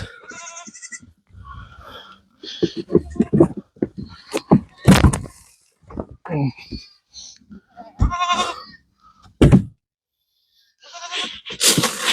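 Goats on a Canadian farm bleat in a series of loud, close, uneven calls separated by quiet gaps, mixed with knocks and a door banging.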